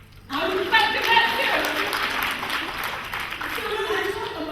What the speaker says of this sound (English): I would clap to that